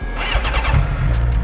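A Suzuki GSX-R 750 motorcycle engine fires up, its low rumbling idle steady and close throughout, with a brief surge partway through.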